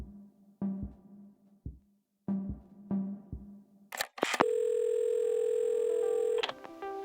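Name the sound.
telephone ringing in video game Assemble with Care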